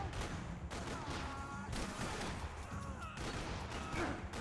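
Gunfire in the PC video game Max Payne 3 rattles in a dense, continuous fusillade of overlapping shots and bursts, loud and steady from start to finish.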